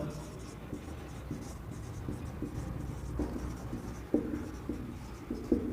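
Chalk or marker strokes scratch across a classroom board during a biology lecture on blood groups, a steady series of short taps and scrapes, some louder clicks near the end, with the lecturer's voice faint in the background.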